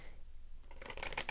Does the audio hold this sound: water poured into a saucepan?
no